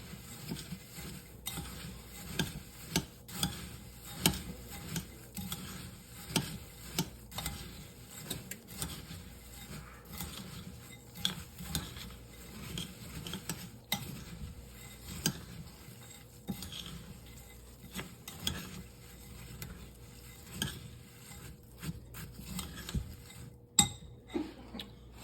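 Stirring a casserole mixture with crushed crackers, a spoon scraping and clinking against the dish in a steady, fairly quiet rhythm of small taps and scrapes with no talk.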